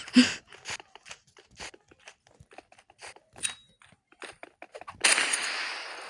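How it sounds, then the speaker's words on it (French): Pistol gunfire in the Roblox game Rivals: a string of sharp, short shots in an irregular rhythm, a few of them louder, followed by a burst of broadband noise near the end. Nobody talks. "Arrête de jouer avec ce pistolet."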